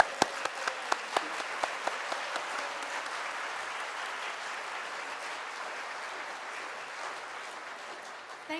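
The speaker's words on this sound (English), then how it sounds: "please pretend I finished the speech and do a big stand-up clap" A plenary-session audience at a volunteering conference in Bangkok rises into a standing ovation, with a few sharp early claps that swell into dense, sustained applause filling the hall and holding steady throughout.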